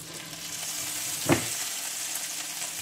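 Parmesan-breaded lamb chops frying in a moderately hot pan, a steady soft sizzle throughout with one brief crackling pop near the middle, no talking.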